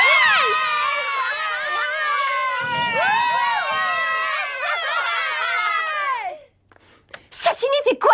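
A crowd of children shouts and cheers excitedly, many high voices overlapping loudly for about six seconds before breaking off into silence and a few scattered cries.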